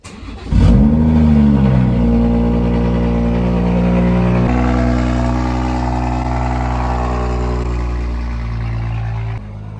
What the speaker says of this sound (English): If it doesn't cold start now, I don't know when it will